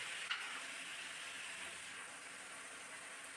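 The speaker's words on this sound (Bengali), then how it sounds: "সাদা তেলে মাংসটা দিয়ে ভালো করে নেড়ে চেড়ে" Chicken pieces frying and being stirred in white oil for a home-style chicken biryani, a steady broadband sizzle with one faint scrape near the start, close and continuous, no talking.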